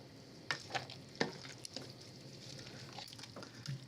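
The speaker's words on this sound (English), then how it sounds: "Now, the grated cheese. And you want to mix that in well." A spoon stirs grated cheese into a barley, kale and butternut squash risotto, giving a few clear scrapes and knocks at first, then softer, wet stirring over a low simmer, close and quiet.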